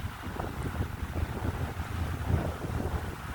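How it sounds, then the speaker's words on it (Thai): Wind gusting across Ban Krut beach in Prachuap, Thailand, a fluctuating low rushing buffet against the microphone with no talking. "ลมดีดี"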